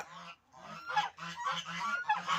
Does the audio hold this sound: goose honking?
yes